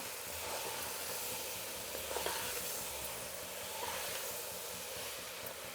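Masala with seeds and nuts fries in a pan for a Karnataka-style rasam while it is stirred, giving a steady faint hiss and sizzle with soft scraping in the middle and no talking.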